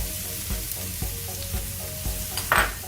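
A generous amount of garlic fries in a pan after onion, on the way to corned beef fried rice, with a constant bright sizzle broken by rhythmic scrapes of a spatula stirring about every half second, and no voices.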